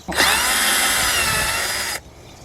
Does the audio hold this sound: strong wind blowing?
no